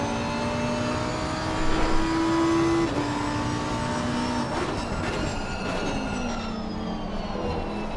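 GT3 race cars in Assetto Corsa Competizione during an SRO 2023 GT3 Championship race drone past steadily, engine tones rising and falling as lapped cars are passed, with a loud swell early and a continuous close roar throughout.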